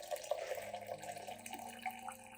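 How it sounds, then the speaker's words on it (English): Hot water pours into a clean glass cup in a steady, soft trickling stream with light splashing, quiet and close, with no talking. "pour about 500 milliliters of hot water into the cup."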